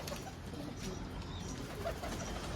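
Pigeons coo faintly in a loft, with soft low calls barely above a steady background hiss and rumble.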